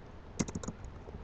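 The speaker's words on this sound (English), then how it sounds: "Just typing." Quick bursts of typing on a computer keyboard, a short run of close, light key clicks with a pause, then a final tap, heard alone in a quiet room.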